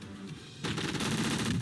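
A rapid burst of automatic gunfire in a shooter video game, starting abruptly and rattling on continuously, loud and close.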